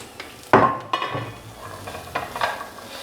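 Carrots being stirred into a pot for a one-pot vegan lentil bolognese pasta, with a sharp clatter of utensil strokes over a soft, steady sizzle, near and fairly loud with a few scattered scrapes.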